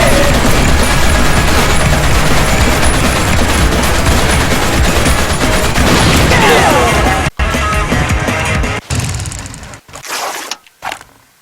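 Minigun roaring in the action game WET, a dense continuous burst of rapid fire with crashing impacts lasting several seconds, then breaking into shorter bursts and stopping near the end, very loud.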